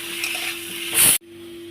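Ginger paste, cumin powder, chilli powder, salt, turmeric and green chilli paste sizzle in a hot pan for a vegetarian dhokar dalna, a loud close frying hiss with stirring that swells briefly before cutting off sharply.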